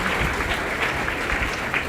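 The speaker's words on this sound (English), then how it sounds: "A big round of applause for all of you." A crowd at an engineering college induction day applauds new first-year students, steady dense clapping at full volume for a brief moment.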